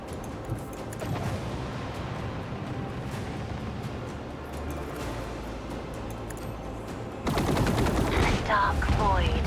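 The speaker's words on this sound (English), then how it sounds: "Unleash our vengeful salvo." Gun salvo from a Warhammer 40k Rogue Trader space battle: a dense, continuous rumble of rapid-fire shots, swelling louder and harsher toward the end, with no talk.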